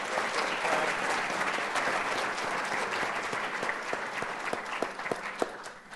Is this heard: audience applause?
yes